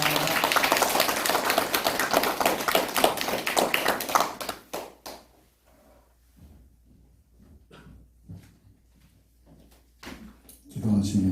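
A church congregation welcomes a missionary with dense, lively applause for about four seconds. The clapping then stops and gives way to near quiet broken by a few sporadic knocks and taps.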